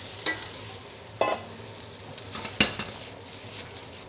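Broccoli and garlic stir-fry in a hot wok with a steady sizzle, broken by a few sharp clanks and scrapes as the vegetables are tossed, close and moderately loud.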